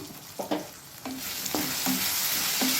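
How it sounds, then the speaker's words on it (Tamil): Potato and okra sabji sizzling in a pan, with a spoon scraping and stirring through the vegetables in several short strokes over a steady, soft frying hiss. "காயெல்லாம் ஓரளவு நல்லா வதங்கிடுச்சு."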